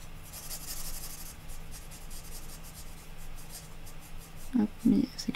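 Brush-tip marker colouring on paper, soft scratchy strokes rubbing across the page in quick repeated passes, quiet and close, with a brief murmur of voice toward the end.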